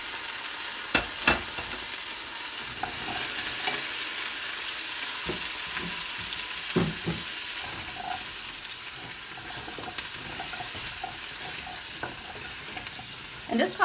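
Carrots, fresh garlic and turkey frying in a pot, a continuous close hiss broken by clinks and stirring knocks spread across the whole stretch, with no voices.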